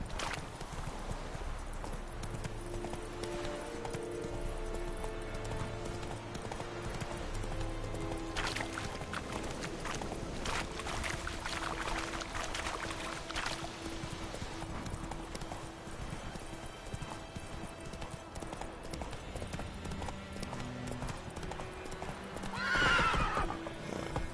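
Roach, a horse in a video game, with steady clip-clop hoofbeats running all the way through over a game music bed, then a loud, sharp neigh near the end.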